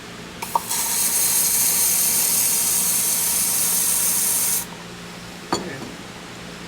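Aerosol paint sprayed into a rock chip on a car, a steady loud hiss of about four seconds followed by a couple of faint clicks.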